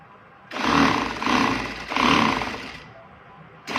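A sewing machine stitches a strip around a baby's panel frock, with three or four short runs of rapid mechanical whirring, each lasting under a second and separated by brief pauses, close by.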